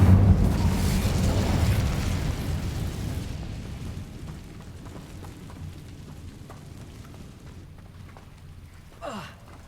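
Incendio fire spell cast in the Hogwarts Legacy video game: a loud, roaring burst of flame at the start that dies away into a quieter crackling tail, followed by a brief whoosh near the end.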